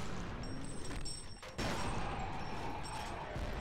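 Continuous gunfire in the first-person shooter F.E.A.R., a dense rattle of shots that runs through the whole stretch with a brief dip near the middle and no voices over it.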